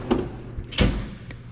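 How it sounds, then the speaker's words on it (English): A pull-out drawer on a Matco Jamestown Copper Vein tool cart or Snap-On Master Series box slides twice, with two short metallic rolling clunks close by and a quiet pause between them. "This has 4 pull-out drawers in it."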